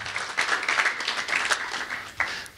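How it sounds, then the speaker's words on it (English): Audience applause for a presenter named Carolina at a crypto money talk: a dense, steady wash of clapping from a crowd, moderately loud, with scattered sharper claps standing out over about two and a half seconds. "Okay, round of applause for Carolina."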